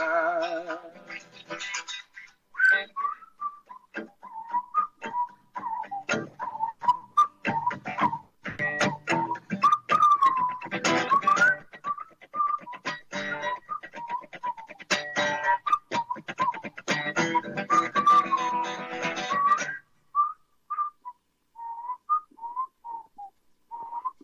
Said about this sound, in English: There's some kind of whistle technique you got to be able to do in order to pull that off.